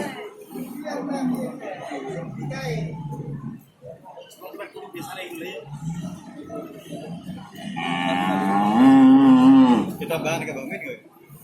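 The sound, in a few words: cattle mooing at Jatirogo cattle market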